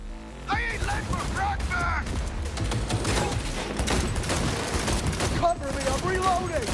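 Sustained gunfire from a firefight in the video game Cyberpunk 2077, dense overlapping shots running throughout with voices talking over the battle.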